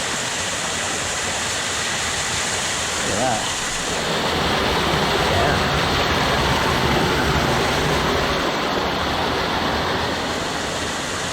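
Waterfalls in Muddy Creek Gorge, Pennsylvania roar as a steady, loud, broadband rush of falling water throughout, with a brief spoken remark over it.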